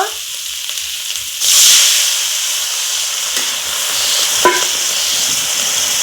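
Water is poured into a hot pan of egg curry, setting off a sudden loud hiss and sizzle of steam that settles into a steady bubbling simmer, with a brief clink partway through and no talking.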